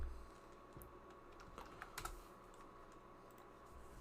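Typing on a computer keyboard while entering data into an Excel spreadsheet, a steady patter of close, light key clicks with a few sharper strokes and no talk.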